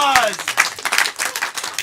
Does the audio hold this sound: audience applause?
yes